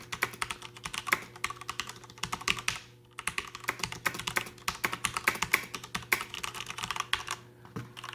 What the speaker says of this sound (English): this is what it sounds like with typing aggressively.